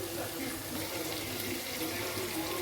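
Raw prawns fry in hot oil, a steady, dense sizzling hiss heard close up and without a break.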